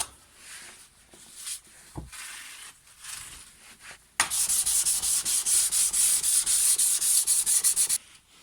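Underside of a Stihl HLA 56 hedge trimmer blade being lightly reprofiled by hand: quiet scattered rubbing first, then a sustained, loud, close hissing file or sharpening stroke sequence lasting several seconds.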